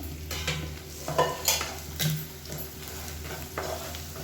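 Paneer masala sautéing in oil in a pan over a medium flame, with a steady soft sizzle and frying hiss broken by occasional scrapes and clinks of stirring.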